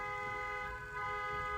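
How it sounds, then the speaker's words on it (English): Continuous car horns honking on a Bronx street, steady sustained tones held through the whole stretch, loud and close with street rumble beneath. "I love the way this honking is going on now while I'm making my video."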